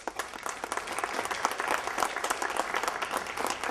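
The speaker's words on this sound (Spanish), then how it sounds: "lo recibimos con un aplauso, por favor." A speaker at an international UFO congress is welcomed by the audience with steady, dense applause from a room of many clapping hands, fairly quiet and even throughout.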